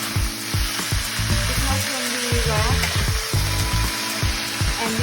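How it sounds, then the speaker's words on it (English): Vegetarian spring rolls deep frying in hot oil, a loud steady sizzle with bubbling crackle and repeated low clunks from the pan or utensils. "we have to deep fry again"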